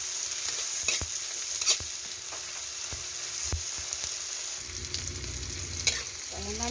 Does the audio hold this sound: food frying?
yes